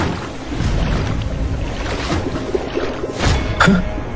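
Fast-flowing river water in a Hindi cartoon forest scene, a steady rushing wash that runs throughout at close range, briefly swelling near the end.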